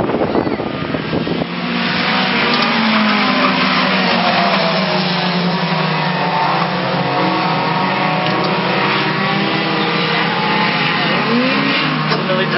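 Race cars in a heat race at Brighton Speedway roar past together in a loud, continuous engine drone, with pitches rising and falling as the field comes off turn two and down the back straightaway.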